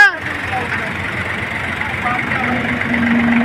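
A tractor engine idles with a low, continuous rumble throughout during the wheat harvest, while a voice talks briefly over it near the start.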